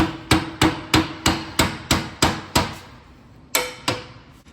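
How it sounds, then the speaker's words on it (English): A hammer strikes a bolt into a radiator mount on a Freightliner 114SD truck, with eight evenly spaced loud metallic blows, a pause, then two more hits, close and ringing. "I'm gonna push it on the bolt, and I'm gonna hit down on this, and then hopefully it'll go in."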